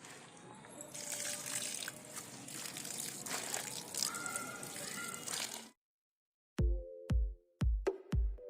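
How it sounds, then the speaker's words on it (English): Water is poured onto a dry mix of clay soil and vermicompost, a close, steady trickling splash lasting several seconds, then silence followed by a few short, sharp knocks. "Now we add water to the homogeneous mass."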